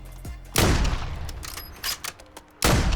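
A charging weapon fires in Warzone, sending two loud, sharp blasts about two seconds apart with crackling decay and lighter clicks between them.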